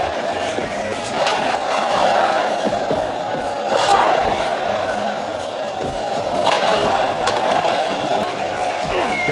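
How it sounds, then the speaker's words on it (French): Crowd at a fight in a Jean-Claude Van Damme martial arts film chanting "White Warrior", a dense, steady roar of many voices with rhythmic swells of shouting around the middle and later. "La foule scande « Guerrier blanc »."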